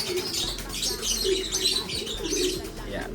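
A pigeon being handled gives low soft coos amid brief fluttering of wings and faint chirps nearby, close and moderate in level, with a voice speaking quietly in the background.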